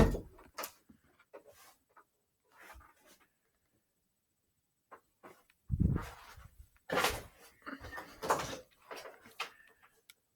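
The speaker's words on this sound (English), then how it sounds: "Let me close the door." Someone handles and shuts a small door during a classroom color-filter demonstration, with scattered clicks and knocks, a brief quiet gap, then louder thuds and rustles close by.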